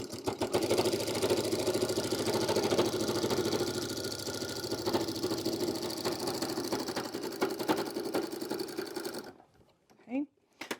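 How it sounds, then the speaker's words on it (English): Sewing machine stitching a seam on a DIY bag with a half-inch seam allowance: a steady, close, rapid mechanical whir for about nine seconds, then it stops and a short voice follows. "start with that back stitch, and sew all the way to that corner"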